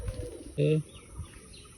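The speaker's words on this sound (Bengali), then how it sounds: "এখানে ঘুঘু পাখি আছে" A single short dove coo rises briefly over quiet background noise, fairly close and clear.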